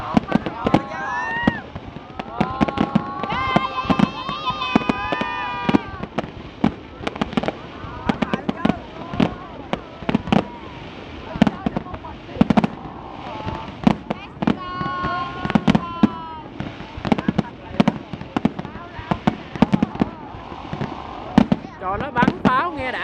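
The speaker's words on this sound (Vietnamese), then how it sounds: "Trời, nó bắn pháo nghe đã thiệt chứ" Fireworks burst at the Dalat flower festival in 2015, with a rapid, irregular string of loud bangs and crackles that continues throughout while nearby spectators talk and exclaim over them.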